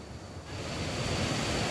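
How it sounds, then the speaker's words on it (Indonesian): The Lubuk Udang waterfall, a low fall pouring into a pool, sends up a steady broadband rush of water that swells louder after a moment and stays constant. "Ini air terjunnya memang nggak terlalu tinggi, jadi seperti ada lubuk gitu, dan air terjun"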